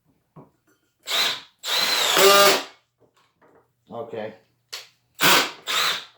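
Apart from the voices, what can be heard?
power drill boring wood with spade bit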